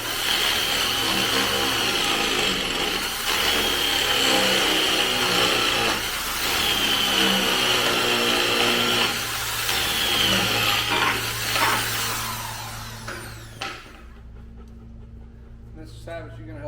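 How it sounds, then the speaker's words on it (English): A hammer drill bores holes down into a concrete floor to anchor a two-post car lift, a loud, continuous grinding roar that runs for about twelve seconds and then cuts off, leaving quieter background noise. "hammer drill to drill a couple holes down into the concrete"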